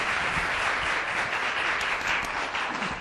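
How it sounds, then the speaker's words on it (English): Loud, dense applause from a large audience, sustained and even from start to finish. "please give her a round of applause"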